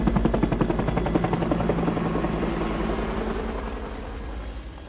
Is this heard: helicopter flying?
yes